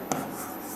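Pen strokes from writing by hand, faint scratching across a short moment over a steady background hiss, with one slightly sharper stroke near the start.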